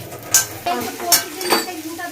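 Garlic and green chili paste goes into a pan of fried onions, giving a soft sizzle with a few sharp clinks and scrapes of a spoon stirring against the pan, close and fairly quiet.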